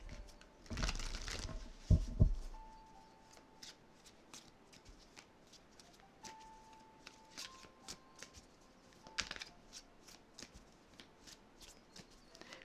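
A Deviant Moon tarot deck is shuffled by hand, a loud riffling burst near the start followed by quieter, scattered card slides and taps, close and with no talking.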